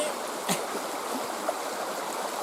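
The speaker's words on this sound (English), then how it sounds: "As you can see, the creek is rising." A rising creek in the Pacific Northwest flows in a steady, broad wash of water noise, continuous and fairly close, with a couple of faint brief clicks over the rush.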